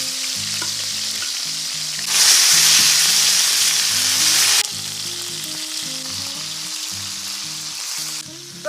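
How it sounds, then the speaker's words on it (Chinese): Lamb chops sear in a pan for a French-style dish cooked on the Inner Mongolian grassland. A steady sizzling hiss swells louder for a couple of seconds, with soft music underneath. "把羊排的这一面也煎一煎。"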